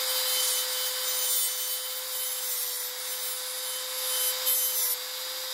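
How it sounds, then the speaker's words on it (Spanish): A rotary cutting burr polishes a workpiece in a continuous, even grinding hiss with a steady high whine, close and loud, running without pause and with no talk. "Fíjense que mientras yo estoy puliendo, estoy dejando todo limpio el trabajo."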